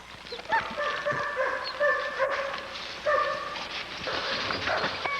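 A pit bull barks and yips in short excited bursts with whiny, high-pitched overtones at close range. Light background noise runs throughout.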